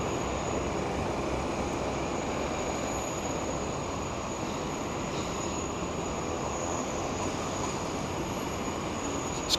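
Steady, continuous engine roar from a small Saab 340 turboprop using a short far runway at Sydney Kingsford Smith Airport, a broad, even drone at moderate distance with no talk over it.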